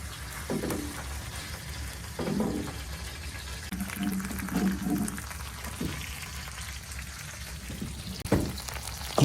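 A thick piece of meat sears on a hot stove in a freezing abandoned cabin, giving a steady sizzling hiss with a few louder crackling bursts as it is turned and pressed, close and alone without talk.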